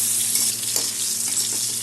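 Potatoes fry in a pan for a Bengali prawn curry, giving a steady, loud, continuous sizzle with faint stirring scrapes and no voices.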